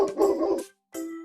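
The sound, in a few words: dog barking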